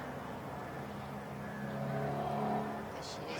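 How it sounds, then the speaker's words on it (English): Mercedes GT3 race car engine rumbling steadily during qualifying at Sepang circuit, a low continuous drone that swells slightly midway, heard at a distance with faint broadcast commentary presence underneath. "always Mercedes GT3, GT4 cars have that magnificent rumble"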